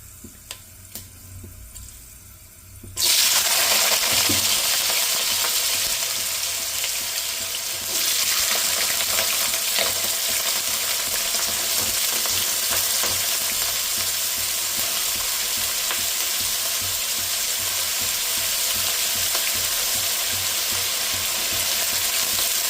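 Fenugreek seeds and cut potatoes frying in oil in a pan for a Gujarati dry fenugreek-potato dish: a quiet start, then a sudden loud burst of sizzling that settles into a steady, close crackle, with no speech.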